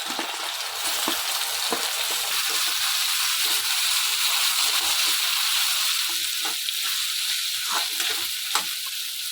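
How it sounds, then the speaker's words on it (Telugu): Boiled cluster beans and potatoes tossed into hot oil with curry leaves in a pan, producing a continuous close frying sizzle with intermittent spatula scrapes and clicks, steady and fairly quiet, without speech. "ఇప్పుడు బాయిల్ చేసుకున్నాం కదండి గోరుచిక్కుడుకాయలు, ఆలు వేసుకోండి"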